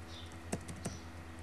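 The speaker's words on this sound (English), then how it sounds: "then you just have to type" A few quick taps on a computer keyboard while a command is entered, soft and close over a steady low hum, with no voices.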